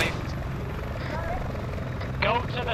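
An Arma 3 helicopter's rotor drone hums steadily in the background while players talk over it, the engine low and constant beneath their voices.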